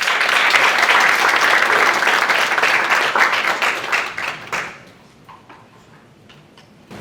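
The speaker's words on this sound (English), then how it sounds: "can we give another round of applause" Audience applause at a youth entrepreneurship challenge event, a loud dense burst of clapping that tapers off after about five seconds into a few scattered claps.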